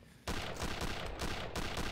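Gunfire in the video game Return to Castle Wolfenstein: a sudden burst of rapid, loud shots that keeps going for nearly two seconds after a quiet start.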